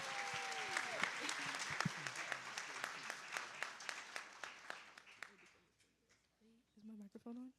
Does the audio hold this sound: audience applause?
yes